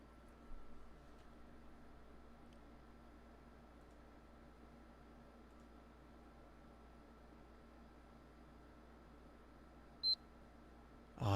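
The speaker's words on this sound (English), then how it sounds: "That's it. Just a beep." An electronic beep from a PlayStation State of Play livestream, a short sharp tone standing out near the end above a steady faint background hiss.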